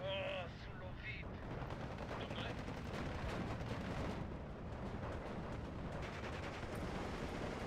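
Steady gunfire in Steel Division 2, a WW2 strategy game: continuous rapid shots and distant artillery-like thumps in a loud battle din, with no break throughout.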